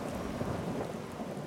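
Rain falling over the Amazon rainforest with a low rumble of thunder, a dense steady wash of noise heard alone and at moderate volume.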